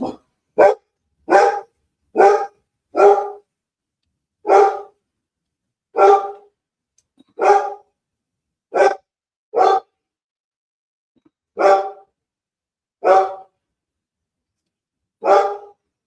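A dog barks in a series of about fourteen loud, close single barks spaced a second or so apart, with silence between them and no talking.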